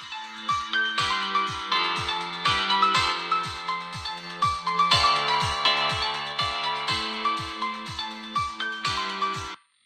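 Music from a phone plays through a TA8229K amplifier board, loud and punchy, with a steady rhythmic beat of sharp bass hits repeating for about ten seconds before stopping abruptly; no talking.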